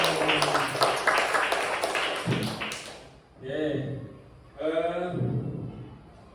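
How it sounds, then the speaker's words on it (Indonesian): Fourth-grade students clap together in a classroom, a dense burst of claps mixed with their voices for about three seconds, followed by children talking and answering. "Berikan tepuk tangan."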